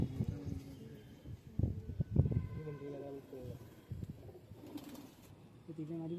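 Pigeons coo softly in a loft in Amravati, Maharashtra, in several low throaty bursts alongside a bit of wing or body movement, with someone speaking at moments through it.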